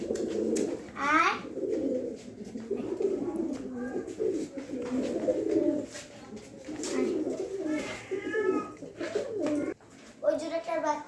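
Lakkha pigeons coo close by in repeated soft, throaty rolling calls throughout, while a person talks over them in the background.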